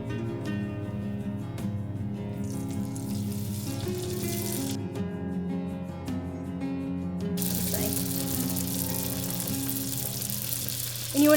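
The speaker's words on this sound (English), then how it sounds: "we're gonna start frying them" Sourdough apple fritters frying in oil heated to about 350 degrees, a steady close sizzle and crackle running throughout, with a brief louder burst of bubbling near the end.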